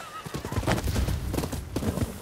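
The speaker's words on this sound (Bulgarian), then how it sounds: "Бял кон." A white horse in the video game Rise of the Ronin whinnies while its hooves clip-clop steadily, loud and close, mixed with other game sounds.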